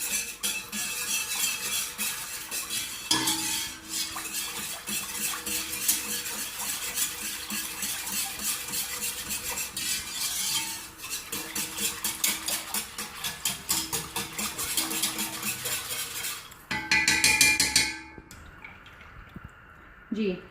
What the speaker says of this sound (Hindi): जी इसको हम मुसलसल हिलाते रहेंगे।